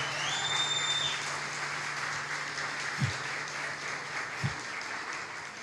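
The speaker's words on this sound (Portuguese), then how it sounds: "Vamos aplaudir as esposas do pastor?" A church congregation applauds steadily for the pastor's wives, a dense sustained clapping that fills the room from start to finish, with faint tonal hum and a couple of soft thumps beneath it.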